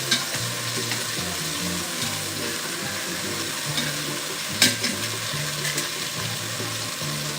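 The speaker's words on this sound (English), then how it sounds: "We'll let that sear." Oxtails sear in a hot pan with a steady, crackling sizzle and spitting fat, plus light clinks and stirring sounds. A sharp clatter comes near the middle, and no one speaks.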